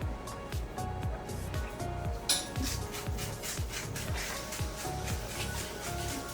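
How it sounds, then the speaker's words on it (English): A spoon clinks and scrapes rhythmically against a bowl while salt is stirred into a puree, a steady series of close, light metallic taps with a brief louder knock partway through. "And I'm just stirring it in."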